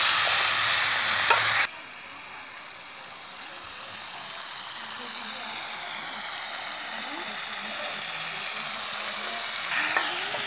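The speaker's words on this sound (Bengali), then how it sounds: "এবার এগুলোকে আমি ভালো করে নেড়ে চেড়ে দিচ্ছি।" Slit green chilies frying and being stirred in a pan over a home-built wood-fired clay stove, with a steady bright sizzle, a louder burst at the start and scraping stirs throughout.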